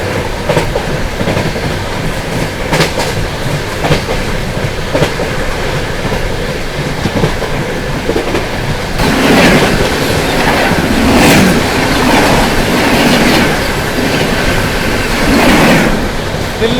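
The Sikkim Mahananda Express, running Delhi to Alipurduar, rolls past with steady wheel clatter and rumble that swells louder and brighter partway through as the coaches pass close by.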